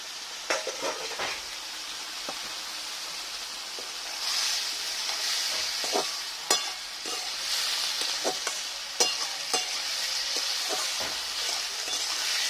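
Fish with potatoes, cauliflower and eggplant sizzles in a pan as it is stirred, a steady frying hiss punctuated by repeated sharp scrapes and knocks of the spatula.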